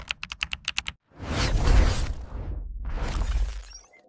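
Rapid clicks of a computer keyboard tap in a quick burst of about eight keystrokes, then give way to a loud shattering crash and a long rushing noise that swells twice before fading.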